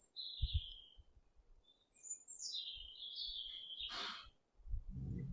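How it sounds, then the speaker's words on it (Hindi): An Asian koel calls with a few clear, high whistled notes rising and sliding, fairly close and alone over faint low thumps and background noise. "कुको को हिंदी में कोयल कहते हैं"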